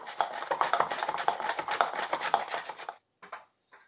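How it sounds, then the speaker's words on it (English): Apples being sliced thin on a mandolin, giving a quick run of rhythmic rasping strokes that stops abruptly, followed by a couple of faint handling sounds. "I'm gonna slice it really thin with a mandolin"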